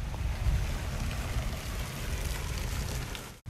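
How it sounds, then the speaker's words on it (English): A small water feature in a public park in Krabi, Thailand gives off a soft, continuous wash of splashing water, fairly faint and steady, mixed with light outdoor wind noise. "Got a nice little water feature up here."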